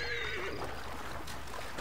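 A horse whinnies in the video game Assassin's Creed Origins, one loud descending neigh up close that fades into a steady bed of game ambience, with no talk over it.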